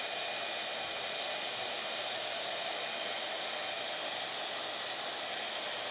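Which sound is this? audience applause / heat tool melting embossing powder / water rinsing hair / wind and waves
heat tool melting embossing powder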